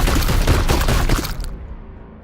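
A video game unit opens fire in a loud, rapid burst of gunfire with overlapping cracks and booms that rattle on for about a second and a half, then trail off into a fading rumble.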